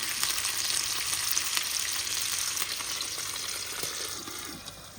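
Lamb neck chops fry in a pan with a steady, loud, continuous sizzle and crackle, with no voices over it.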